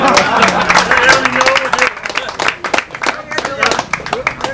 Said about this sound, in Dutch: Jongens, applaus.